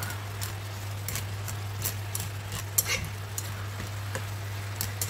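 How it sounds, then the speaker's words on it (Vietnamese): Vegetarian ragout with seasonings is stirred in a pan, giving a low steady sizzle with irregular scraping and ticking clicks of a utensil against the pan throughout, under a constant low hum. "Rồi mình cũng xào đều để cho tất cả các gia vị nó thấm đều lại với nhau."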